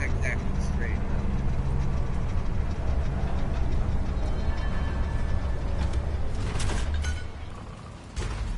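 A tram-like vehicle rolls along in the Star Wars Jedi: Survivor game, giving a steady, loud mechanical rumble with rattling carriage noise and a brief dip near the end.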